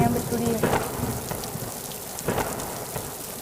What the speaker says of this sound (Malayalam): ഒന്നാമത് പുറത്ത് ഇടിയും മഴയും